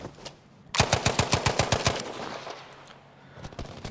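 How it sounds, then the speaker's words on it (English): A grease gun fires a rapid burst of about a dozen evenly spaced shots in the Battlefield video game, loud and close, followed by quieter background game sounds. "If you go to the grease gun, it has a different rate of fire."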